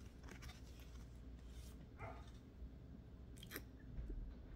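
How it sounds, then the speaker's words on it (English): A dog barks faintly in the background, with a few short, scattered yaps separated by quiet gaps. "I apologize for the dog barking."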